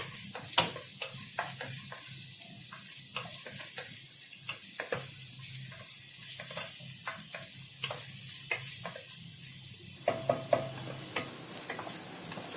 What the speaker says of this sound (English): Next, we are going to add our onion. And saute that too.